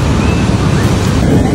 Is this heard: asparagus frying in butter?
no